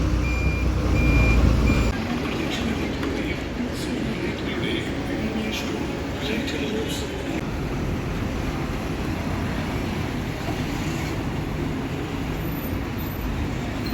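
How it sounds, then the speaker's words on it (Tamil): A Kerala-bound bus pulling out for Kottayam, its engine rumbling steadily with a few faint reversing beeps over continuous vehicle noise and a louder burst at the start. "ஸோ நம்ம பஸ் கிளம்பிட்டு பாருங்க"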